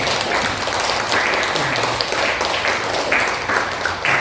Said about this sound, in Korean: 한 번 더 위로 격려 박수 한번 하겠습니다